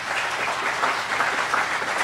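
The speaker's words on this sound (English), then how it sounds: "Please give yourselves a round of applause." Applause from an outdoor crowd at a groundbreaking ceremony for a state historic site visitor center, a steady dense wash of clapping, moderately loud and even throughout.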